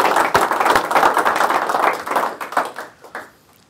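Attendees at a sales meeting give a round of applause, a close, lively burst of many hands clapping that runs for a few seconds, then thins out into scattered claps and fades.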